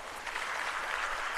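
Brief, fairly faint applause from a summit audience in Tanzania, greeting the managing director of Vodacom Tanzania: a soft, even patter of clapping lasting just over a second.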